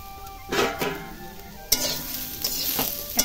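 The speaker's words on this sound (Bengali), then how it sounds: "সব একসাথে আমি ভেজে নিচ্ছি।" Onions and vegetables frying together in a pan for egg chowmein: a steady close sizzle broken by several scraping stirs and light clinks of a utensil on the pan, with no talk.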